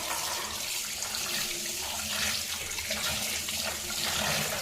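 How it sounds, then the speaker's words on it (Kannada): Tap water runs steadily over a magic towel held under a faucet, a continuous broadband splashing rush that stays loud and even throughout with no voices. "ನೆಕ್ಸ್ಟ್ ನಾನು ಇದನ್ನು ನೀರಡಿಲಿ ಹಿಡಿತಾ ಇದ್ದೀನಿ, ನೀವು ನೋಡ್ಬೋದು"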